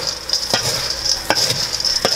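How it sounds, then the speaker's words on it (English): A spoon or spatula stirs a cranberry orange snack mix with candied ginger into a sticky glaze, making a few crisp scraping strokes at irregular intervals. It is close and fairly loud, with no talking. "I'm gonna go continue stirring this up until it's all well coated"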